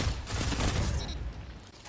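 Gunfire from a first-person shooter game, a dense burst of shots and impacts over about a second before trailing off into quieter game ambience.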